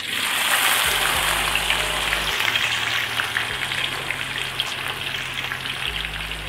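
Potatoes frying in hot oil for a spicy potato fry masala, giving a steady, loud, close sizzle with a continuous bubbling hiss and no talking.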